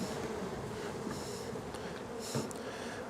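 Honey bees swarming around an open hive as a colony is split, a dense steady buzzing close by with a few louder passing bees and no talk.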